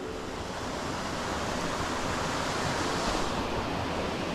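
A waterfall along a winter mountain-bike trail, heard as a steady, loud, broadband rush of falling water that fills the whole stretch without pause.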